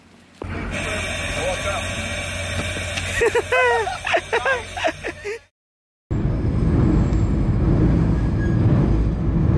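A Canadian cross-country passenger train runs with a steady, loud rolling rumble; people talk over it during the first half, then after a brief cut the continuous rail noise returns alone.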